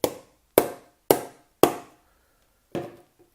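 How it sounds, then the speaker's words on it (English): A finger flicks a bottle five times, each a sharp close tap with a short hollow ring; the first four come at an even pace and the last follows after a pause, with nothing else heard. "I'm flicking the bottle."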